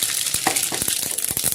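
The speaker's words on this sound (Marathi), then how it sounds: "आपण मोहरी टाकूयात, मोहरी, जिरे टाकूयात" Mustard seeds and cumin sizzle and crackle in hot oil in a kadhai while a shev bhaji tempering is cooked, a steady close hiss with sharp popping bursts throughout.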